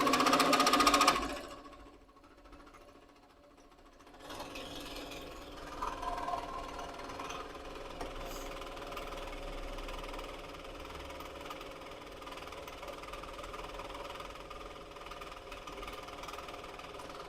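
After a short pause, a sewing machine winds a bobbin with a steady, even mechanical whir that holds at a moderate, constant level.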